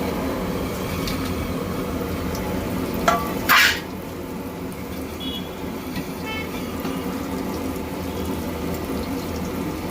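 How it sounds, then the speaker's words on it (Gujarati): Whole spices dropped into about 500 grams of heated oil for a Punjabi-style curry gravy give a steady, fairly loud sizzle, with a brief sharper burst of crackling partway through as something is added, and no talking. "એને ગરમ કરી લઈએ આખા મસાલા લઈ જાય તેલમાં નાખી"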